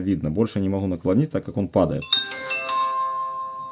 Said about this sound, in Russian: Вот такой вот звуковой сигнал включения.